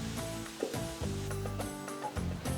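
Tomatoes and onions cooking together in a pan for biryani give a steady sizzle with light stirring and clinking, close and fairly quiet throughout.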